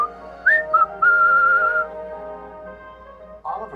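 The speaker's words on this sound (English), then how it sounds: "Oliver whistled several times" Oliver, a Thomas the Tank Engine steam locomotive, sounds his whistle several times while waiting at a red signal: two short clear toots followed by one longer sustained blast, loud and close.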